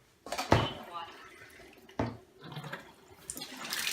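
Tap water runs while food is rinsed in a home kitchen: a few splashing bursts of running water come and go close by, with soft talk around them.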